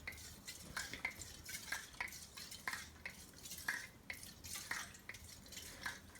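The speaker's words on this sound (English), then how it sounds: "whilst the gas is going in, you want to shake it backwards and forwards like that" CO2 gas charging a BOC Sparklets Hostmaster 3 soda siphon while it is shaken back and forth, heard as a quiet, close hiss with rhythmic sloshing and clinking pulses about twice a second.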